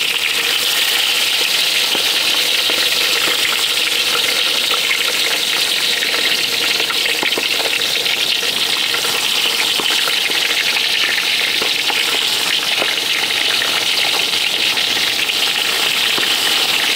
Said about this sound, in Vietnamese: Dầu nó cũng nóng rồi giờ nên để cá vô chiên.